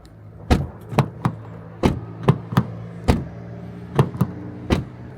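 A series of sharp, hollow clacks, around ten of them at an irregular pace, as a 2024 Mazda 3 sedan's door handle is pulled and snaps back, close by.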